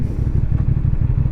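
A CF Moto 450 SR motorcycle engine running close by during a road ride, a loud steady low rumble with a rapid pulsing beat and no talk over it.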